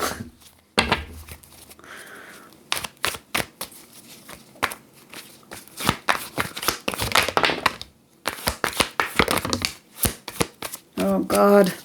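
Tarot cards are handled and shuffled in bursts of crisp riffling and shuffling, close up, with short pauses between the runs of cards.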